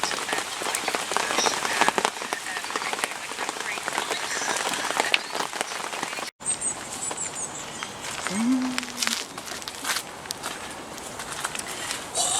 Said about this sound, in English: Hopefully in the meantime this rain moves off.